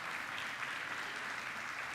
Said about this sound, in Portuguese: Aplauda mais uma vez a glória do Senhor.